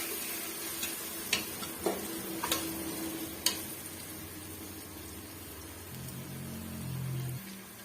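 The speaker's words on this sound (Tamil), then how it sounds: "இந்த இஞ்சி பூண்டு பேஸ்ட் வந்து நல்லா வாசனை போகிற வரைக்கும் வதக்கி விட்டுக்கலாம்" Ginger garlic paste being sautéed in a pan for chicken biryani, a steady soft sizzle with a few sharp ticks of a spoon stirring against the pan, near and fairly quiet, with no talk.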